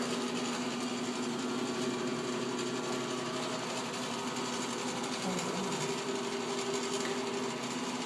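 Electric motor powered through a single- or three-phase AC-DC converter in a lab setting, running with a steady, even hum and whine throughout, fairly quiet with no speech.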